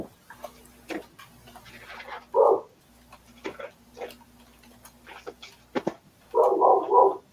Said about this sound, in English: I'm sorry if you can hear my dog.